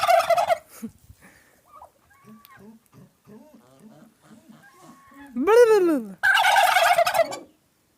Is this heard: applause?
no